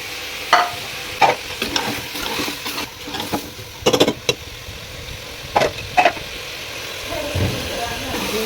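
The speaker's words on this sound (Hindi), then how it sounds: "हमने इनको अच्छी तरह से भून लिया है। थोड़ा सा आप इसको भूनने देंगे" Potatoes, carrots, peas and capsicum fry in a pan, a soft background sizzle punctuated by sharp spatula scrapes and knocks in irregular clusters.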